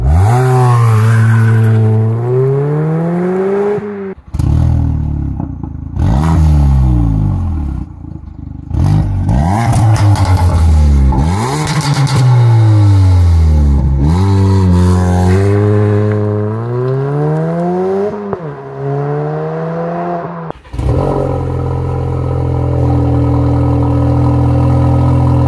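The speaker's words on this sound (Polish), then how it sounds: "zobaczcie jeszcze testy, które robił Bartosz z różnymi wydechami." Ford Focus engine revving repeatedly, loud and close, each rise and fall run through a different exhaust, with short breaks between the pulls.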